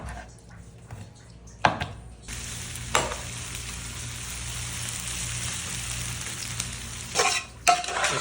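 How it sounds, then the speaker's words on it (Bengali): Chilies tipped into frying biryani in a pot, a loud, steady close sizzle broken by a few clanks and scrapes of a stirring spoon, with no talk over it. "এই পর্যায়ে আমরা এখন বিরিয়ানির মধ্যে মরিচগুলো ঢেলে দেবো, ঢেলে দিয়ে তারপরে লেড়ে দেবো।"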